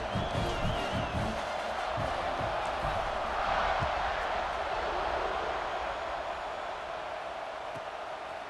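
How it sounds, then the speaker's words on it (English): Dense, steady video game stadium crowd roar at a college football game fills the whole stretch, a broad wash of many voices with occasional louder swells, close and continuous. "You think this crowd's going to get loud when their defense comes on the field?"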